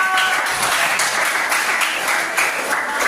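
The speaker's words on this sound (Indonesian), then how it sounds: "Berikan tepuk tangan dong." A class of students applauds, dense continuous clapping that stays loud and even throughout the few seconds.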